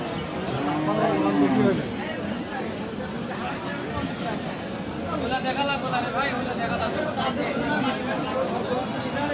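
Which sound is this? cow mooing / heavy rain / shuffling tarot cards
cow mooing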